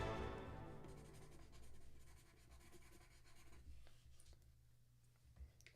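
Pencil drawing on paper gives soft scratchy strokes that fade from a louder start to faint intermittent scribbles, close and quiet, with no talk.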